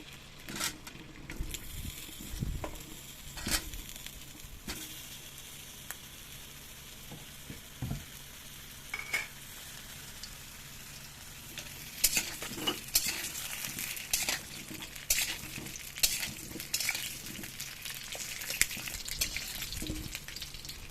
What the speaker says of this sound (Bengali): তো আলু আমি কড়াই এবার দিয়ে দিচ্ছি